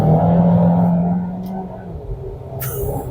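A 2025 Dongfeng Aeolus Mage Turbo compact crossover accelerates with a rising engine drone that fades into road noise, heard from inside the cabin along with a short exclamation and a sharp noise near the end.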